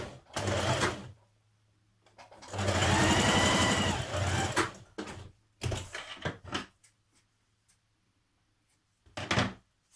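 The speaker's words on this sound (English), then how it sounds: "and we're going to stitch down this side." A sewing machine stitches down the side of dress fabric in several close bursts, including one sustained run of about two seconds, separated by short pauses and light handling thumps.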